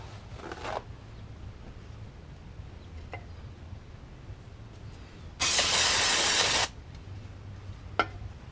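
A single sustained hiss of aerosol cleaner sprayed onto Ford Ranger wheel bearing parts lasts about a second, set among quiet shop background with a few faint clicks and taps before and after.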